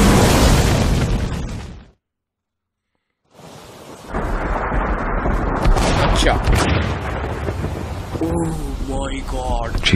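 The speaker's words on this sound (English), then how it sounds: "Uh-oh. A car bomb." Car bomb explosion in Max Payne 2, a loud roaring blast that cuts to a moment of silence, then rumbling fire and debris with a voice calling out near the end.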